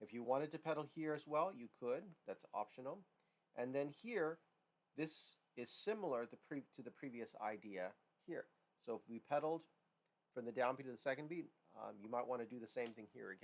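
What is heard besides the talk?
No distinct noise like a dog, phone or traffic.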